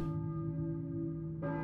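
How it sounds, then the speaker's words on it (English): A church bell rings in the Silent Hill video game, a sustained resonant tone that decays slowly before a fresh strike lands near the end, heard alone without talking. "I hear a church bell, maybe? Who's ringing the bell?"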